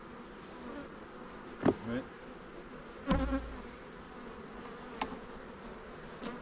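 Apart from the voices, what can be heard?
honey bees buzzing around a hive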